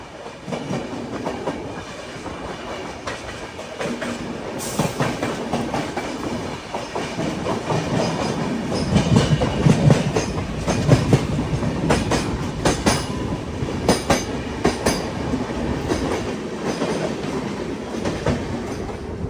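The Tejas Rajdhani Express from Rajendra Nagar, Patna, to New Delhi passes close by near Ghaziabad, a rumbling roar with a rapid clickety-clack of wheels over rail joints that grows louder midway and continues steadily.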